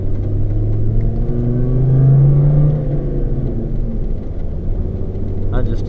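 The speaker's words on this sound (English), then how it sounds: "y'all could hear the truck with some load on the engine, the exhaust and everything with some load" A pickup truck's engine and exhaust working under load on a mountain drive, a steady low droning rumble that swells briefly as it revs, heard from inside the cab with a voice speaking over it.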